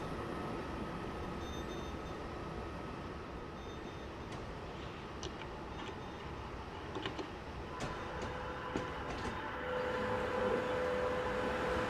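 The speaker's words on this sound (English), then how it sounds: "So that's the train there." A video game train from Train Simulator 2016, on the Cologne to Düsseldorf route, rumbles steadily with a continuous low roar, faint clicks and ticks scattered over it, and a thin tone rising near the end.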